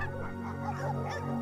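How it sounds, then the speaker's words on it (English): Several dogs riding in the back of a truck bark and yip excitedly, soft and somewhat distant over a steady low engine hum, the barks blurred together rather than sharply separated. "The dogs in the back of the truck bark with excitement."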